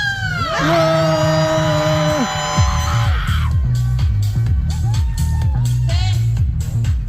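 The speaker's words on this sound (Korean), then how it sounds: "번뇌함성 발사!" A protest rally crowd outside Changwon City Hall plaza shouts in unison, a loud, sustained massed roar of voices followed by rhythmic, repeated chanting bursts with a steady pulsing beat underneath.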